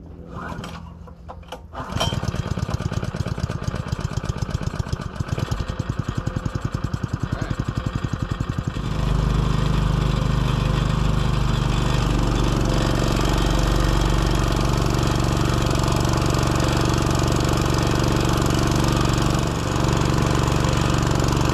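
A suction dredge engine used for Alaskan gold mining cranks and catches after a couple of seconds, then runs at a loud steady drone that rises and settles into a constant roar.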